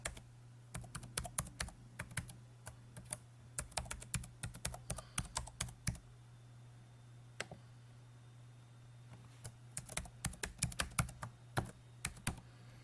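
Login ID and password typed on a computer keyboard, in quick bursts of soft close key clicks with pauses between, over a low steady hum, no voices.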